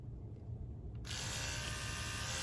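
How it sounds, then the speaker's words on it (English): An electric toothbrush switches on partway through, its steady high-pitched buzz running continuously at close range after a quieter, muffled start. "I use an electric toothbrush"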